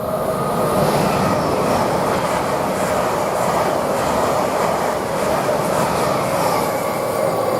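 Dense, loud rumble of an Aberdeen to London King's Cross train passing through Grantham station, rattling carriages and light clickety-clack, constant throughout and without any speech.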